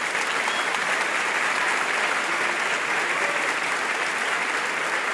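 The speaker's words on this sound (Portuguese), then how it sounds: "Que tal uma calorosa salva de palmas para essas mães?" Warm, sustained applause from a church audience honouring mothers at a Mother's Day celebration, a dense, steady wash of clapping at constant volume for the full five seconds with no voices standing out.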